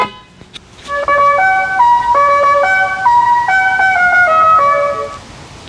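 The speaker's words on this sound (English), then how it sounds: "if you press the car's horn, you will have the car horn sound as well as the La Cucaracha." A Tesla Model 3/Y plays its La Cucaracha novelty horn tune, a loud, clear run of bright electronic notes in a bouncing melody lasting several seconds after a brief opening burst, with no talking over it.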